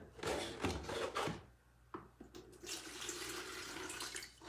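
Two cups of water poured into a container for homemade wipes, a close splashing, gurgling pour that swells and eases with a brief pause in between.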